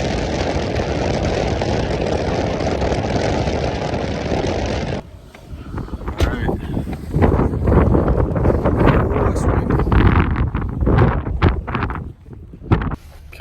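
Strong wind at a Mojave Desert campsite buffets the microphone in a steady roar, then gusts harder and more unevenly, rumbling and thumping with no voices.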